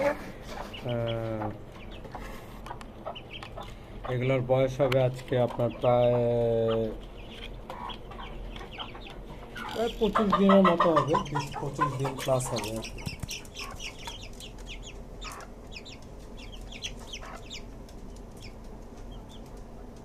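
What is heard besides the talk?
desi chicken chicks cheeping in rooftop cage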